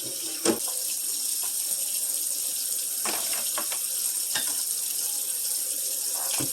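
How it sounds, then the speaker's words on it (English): A kitchen sink sprayer rinses a cutting board, giving a steady broadband hiss of running water throughout, with a few brief clatters and knocks of the board against the sink. "go ahead and rinse off the cutting board"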